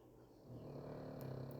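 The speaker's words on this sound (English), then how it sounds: "Don't mind my dog snoring in the background." A dog named Scarlett snores while fast asleep early in the morning, a low, steady rumbling drone that grows slightly louder partway through and continues without pause, with faint clicks near the end.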